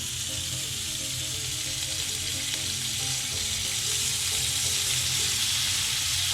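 Steak strips sizzle and spit in a very hot pan, a loud, steady frying hiss that runs unbroken throughout, with faint stirring clatter beneath.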